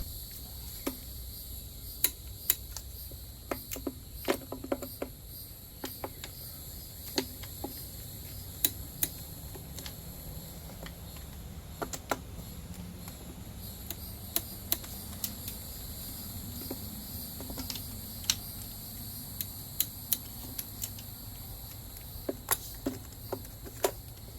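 A torque wrench tightens bolts to 15 foot-pounds on a 2.5L engine in a 2014-2017 Mazda 6. Faint, sharp clicks come in irregular clusters over a quiet garage hum with a high insect-like drone behind.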